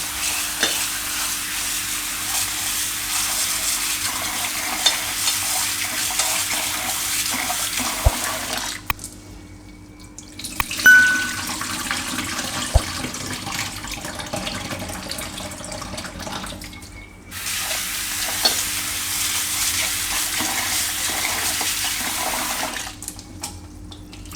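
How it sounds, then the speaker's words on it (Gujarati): Poha (flattened rice) being washed in water, running tap water and sloshing in long bursts, interrupted by quieter pauses with faint clinks and handling before the water runs again. "તો પહેલાં આ પૌવાને આપણે એકવાર ધોઈ નાખશું તો બે ત્રણ પાણી એને ધોઈ નાખવા"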